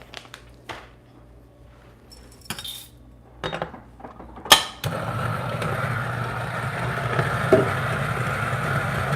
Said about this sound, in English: I'm just gonna change my grinder setting